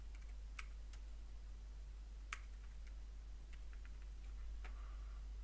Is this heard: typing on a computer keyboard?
yes